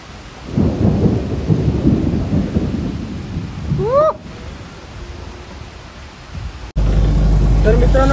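Heavy rain pours down with thunder, a loud steady roar of downpour broken by deep rumbles. A voice is briefly heard, and a sudden louder burst of rain comes near the end.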